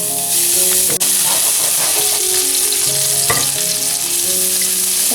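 Minced meat stir-frying in a hot wok for mapo tofu, a loud, close, continuous sizzle with occasional scraping and clanks of the spatula against the pan.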